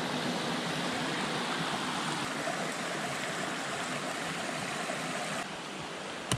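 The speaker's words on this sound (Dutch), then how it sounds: "waterval op de achtergrond" A waterfall rushes steadily in the background along a mountain-bike trail between Sart and Jalhay, a continuous broadband roar, fairly faint and uninterrupted, with a small knock at the end.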